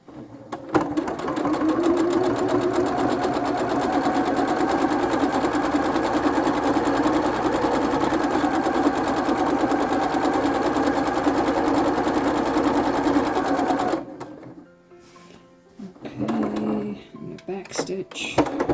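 A sewing machine runs close and loud for about fourteen seconds, stitching quilt fabric with a fast, even mechanical chatter, then stops and gives way to quieter handling noises and brief bursts of machine sound.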